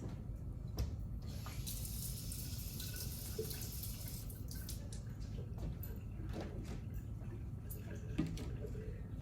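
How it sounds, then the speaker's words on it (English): Liquid poured out of a container in a combustion lab, a faint trickling splash with a few drips and light clinks against a quiet room background. "And I'm gonna pour it out."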